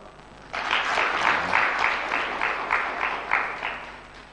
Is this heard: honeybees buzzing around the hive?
no